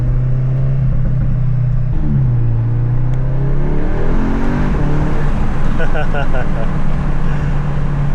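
A tuned car engine rumbles steadily, then revs up and climbs in pitch as it accelerates through a turn, loud and close, with a person speaking over it.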